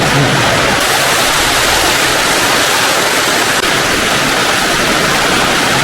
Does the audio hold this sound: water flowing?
yes